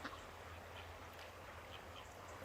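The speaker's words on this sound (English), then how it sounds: "I spotted some ducks upriver" Faint, distant ducks quack now and then upriver over a steady low outdoor hum.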